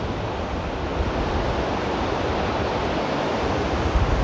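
Ocean surf rolling onto a beach in Costa Rica, a steady, loud wash of broadband noise with no break, the waves close and continuous throughout, with a slight wind rumble underneath.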